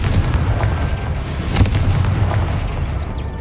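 A fiery Confringo spell blast in the video game Hogwarts Legacy erupts as a loud, rumbling boom with a sharp crack in the middle, set against ongoing battle noise.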